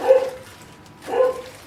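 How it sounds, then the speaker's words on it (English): A dog barks twice, each a short, mid-pitched bark about a second apart, fairly close and alone with no talk. "Crazy ass dog of mine."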